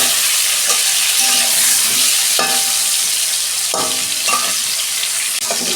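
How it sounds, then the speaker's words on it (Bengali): Pointed gourd pieces fry in hot oil in a kadai with a loud, constant sizzle and several sharp scraping stirs of a spatula at irregular intervals. "প্রথমে পটলটা আমি ভেজে নেব 2 মিনিট।"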